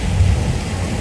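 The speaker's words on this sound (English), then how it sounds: "Fellas, it's cool. Turn off the rain now." Simulated rain and thunder effect on a Universal Studios tour: a loud, continuous wash of pouring rain with a low rumbling underneath, steady throughout without pauses.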